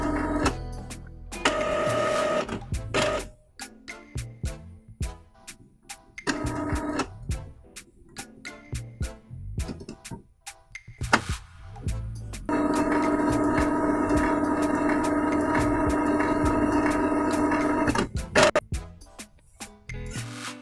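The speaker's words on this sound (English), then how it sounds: "you may hear some noise coming from the printer" An Epson inkjet printer runs a printhead cleaning cycle, whirring and clicking through repeated mechanical cycles, with bursts of motor hum and rattling, ending in a long steady grinding stretch.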